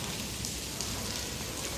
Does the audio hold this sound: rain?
yes